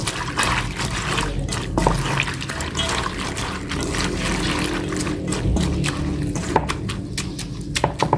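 Water poured and sloshing over sliced bitter gourd soaking in salt in a home kitchen, a steady wet trickling and squishing that runs throughout at moderate loudness, with faint clicks and handling noises.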